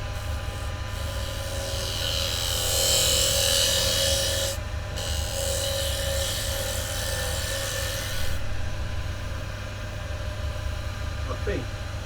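A bowl gouge cuts wood on a lathe, giving a steady close rasping, scraping hiss over the motor's low hum, with a short pause partway through before cutting resumes.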